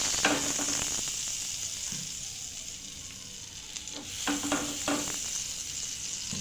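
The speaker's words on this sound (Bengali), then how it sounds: "প্যানটা ভালোভাবে গরম হয়ে গেলে এর মধ্যে দিয়ে দিলাম 1 চামচ বাটার" A spoonful of butter melts in a well-heated pan, giving a soft, steady sizzle with a few brief scraping stirs, quiet and close with no voices.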